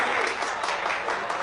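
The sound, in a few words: audience applause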